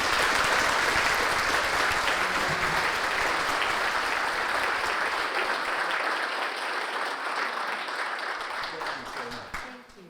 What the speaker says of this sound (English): Let's give a round of applause for Randy and Jackie together.